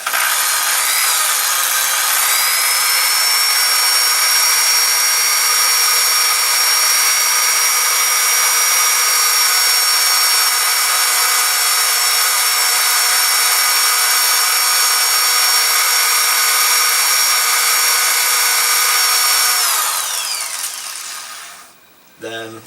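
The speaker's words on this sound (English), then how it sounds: "once you put a little bit on, you can actually just spin it in the drill" A power drill spins steadily while polishing a gun barrel, a continuous high whine held for about twenty seconds before winding down, with someone speaking over it.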